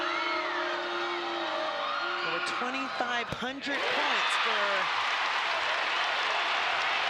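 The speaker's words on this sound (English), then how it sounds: "this crowd is feeling it" An excited basketball arena crowd at a women's college game, Oklahoma versus Indiana, breaks into loud cheering and applause that swells and holds. Squeaking sneakers and a sharp ball thud come just before, and a commentator talks over the start.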